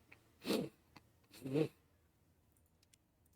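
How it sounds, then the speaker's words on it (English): Two short, quiet sniffs or snorts about a second apart come close to the microphone, followed by faint clicking in an otherwise quiet room. "I got sniffles today."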